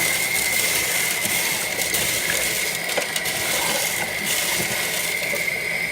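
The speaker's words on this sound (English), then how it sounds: "so I just go in and mix up the rocks really well." Aquarium rocks and gravel stirred in a fish tank, a continuous churning, gritty wash of water and shifting stones under a steady background hum, close and fairly loud with no talking.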